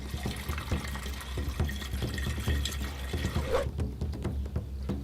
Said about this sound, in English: Gonna put some water in there and then Try and start it.